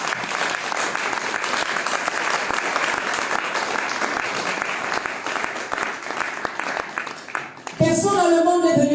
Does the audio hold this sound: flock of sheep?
no